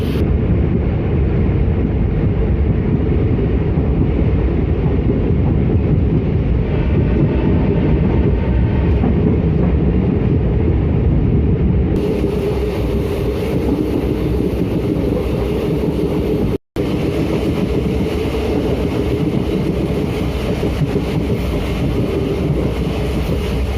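DEMU train running from Siliguri to New Coochbehar via Lataguri, a loud constant rumble and rattle of the carriage on the rails with wind buffeting throughout, briefly cutting out once.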